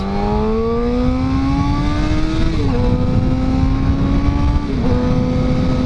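A loud, raspy motorcycle exhaust with the baffle removed, likely a Suzuki GSX-R750, revs up close, its pitch climbing steadily with two brief dips as the gears shift.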